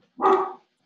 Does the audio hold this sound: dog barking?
yes